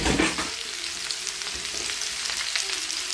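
Fish frying in a pan with onion and carrot, a dense close crackling sizzle that runs steadily throughout, loudest at the start, with light stirring scrapes and no talking.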